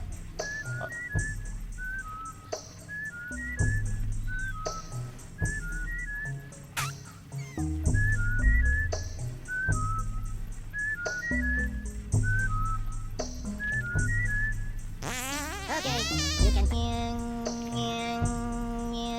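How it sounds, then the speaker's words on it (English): Mutants whistling in the video game Oddworld: New 'n' Tasty, short pitched whistle phrases repeating over steady game music and ambience, followed by a rising and falling whistling sweep near the end. "if you mimic their whistles"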